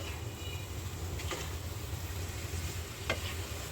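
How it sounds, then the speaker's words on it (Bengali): Sweet vermicelli (jorda semai) is stirred in a pan over a medium flame, giving a steady soft sizzle with a couple of brief scraping clinks from the utensil. "ঢাকনাটা সরিয়ে একটু নেড়ে দিচ্ছি।"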